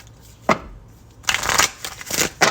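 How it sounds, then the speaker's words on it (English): A deck of Raise Your Vibration oracle cards is shuffled in a few quick riffling bursts, one early snap followed by a busier run of close, crisp card flutters. "that's a lot of shuffling right there"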